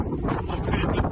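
Strong wind buffets the microphone in a continuous low roar, close and loud, at an observation tower.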